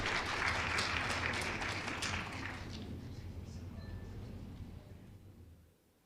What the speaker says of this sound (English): Please, a round of applause to him as we welcome him on stage.